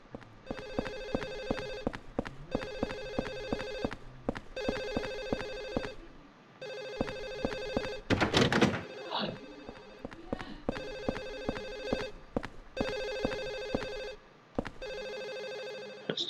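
A telephone rings in Silent Hill 4 with a shrill, repeating electronic trill in steady bursts about two seconds apart, loud and insistent, broken once midway by a brief burst of noise.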